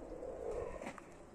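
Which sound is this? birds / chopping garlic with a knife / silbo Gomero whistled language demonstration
birds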